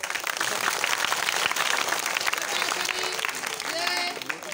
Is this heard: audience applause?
yes